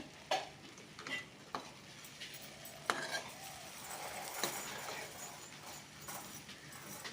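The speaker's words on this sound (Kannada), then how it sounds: "ಸ್ವಲ್ಪ ಸ್ವಲ್ಪ ಅನ್ನ ಹಾಕಿ ಮಿಕ್ಸ್ ಮಾಡ್ಕೊಳ್ತಾ ಇದ್ದೀನಿ" Cooked rice being stirred and mixed into a pan of frying masala, soft scraping strokes and occasional spoon clinks over a faint sizzle, fairly quiet and close.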